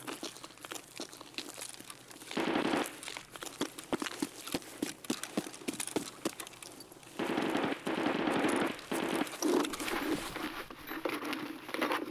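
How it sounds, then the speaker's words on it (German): Gunfire in the video game Escape from Tarkov, on the Interchange map: rapid bursts of sharp shots crackle throughout, some louder and closer, others fainter and spread out in between. "die Schüsse kamen jetzt, kamen die vom Kraftwerk oder was?"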